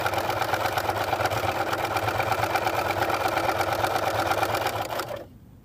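A sewing machine stitches a hot pad in a fast, steady mechanical whir, loud and close, running continuously for about five seconds before stopping abruptly into quiet.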